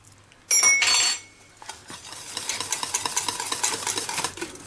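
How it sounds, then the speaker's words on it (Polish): Semolina porridge cooked with milk is stirred in a pot: a loud metallic clatter of spoon against the pot, then continuous scraping and stirring with soft clinks at close range. "bardzo często mieszając, tak żeby kaszka się nie przypaliła"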